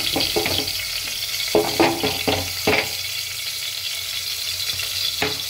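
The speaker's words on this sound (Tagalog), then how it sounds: "Heat natin yung oil and then we put garlic and onion." Garlic and onion sizzle in hot oil in a home kitchen, a steady close frying hiss broken by several clattering stirs and utensil knocks, with no voices.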